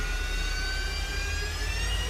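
A Harrier jet engine throttles up in Microsoft Flight Simulator 2024, giving a continuous loud turbine roar with a steady high whine over a deep rumble, heard alone with no talk.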